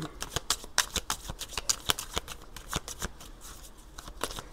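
A deck of tarot cards is cut and shuffled close up in a run of crisp, quick riffling snaps and flicks, with no talking over it.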